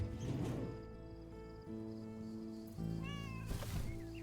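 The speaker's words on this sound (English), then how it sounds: "there's tons of cats in the yard" Several cats meowing in a yard by a lake house, a series of drawn-out meows and wavering cries, one after another, fairly faint and set against a steady low hum.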